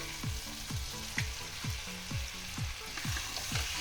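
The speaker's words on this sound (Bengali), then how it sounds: "এবার আমি এর মধ্যে দিয়ে দেব ভেজে রাখা বেগুন।" Fried eggplant goes into a pan of sautéed onion-garlic masala for begun khasi, producing a continuous sizzle over a regular series of soft low thumps.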